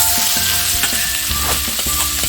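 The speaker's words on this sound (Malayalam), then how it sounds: "ഒരു 5 സവാള അരിഞ്ഞത് ഞാനത് ഇതിലേക്ക് ഇടും." Chopped onions for a catfish curry hit a hot pan and fry with a steady, close, loud sizzle, broken by stirring scrapes and clinks; no voices.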